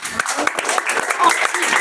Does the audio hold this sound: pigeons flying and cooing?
no